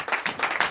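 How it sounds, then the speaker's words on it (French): A church congregation at a night deliverance service claps together in quick, dense applause, a steady close rhythm of many hands with no cheering voices standing out. "Donnez l'acclamation, je suis."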